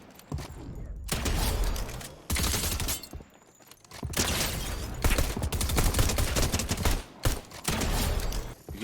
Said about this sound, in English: You can even hit some AR shots on this.